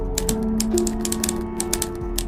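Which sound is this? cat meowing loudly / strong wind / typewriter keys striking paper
typewriter keys striking paper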